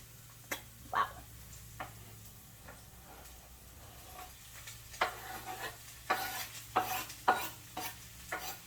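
Onion and other ingredients frying in a pan in a small home kitchen, a soft steady sizzle broken by repeated scraping stirs and clinks, close and fairly quiet with no talking.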